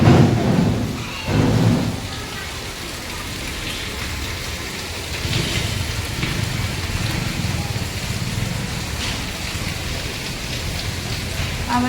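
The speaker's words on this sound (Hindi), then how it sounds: "हम अंदाजा लगा सकते हैं कि कितनी तेज बारिश हो रही है ना।" Heavy monsoon rain pours steadily in a continuous loud hiss, with deep thunder rumbling near the start and softer rolls later, the downpour dense and close throughout.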